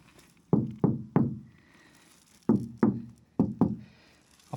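Knuckles rap on the door panel of a VW T5 van in two groups, a set of three knocks followed by a set of four, each a sharp hollow thud. Close and loud with no talking.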